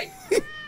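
A cat gives a single short meow-like cry in a comedy film scene, loud and brief against quiet room tone, with a faint voice nearby.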